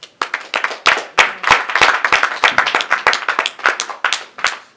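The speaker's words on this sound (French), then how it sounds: "On applaudit le Seigneur pour cela." A church congregation claps during a sermon, loud distinct hand claps in a quick irregular rhythm, each crack sharp and close, continuing for about five seconds.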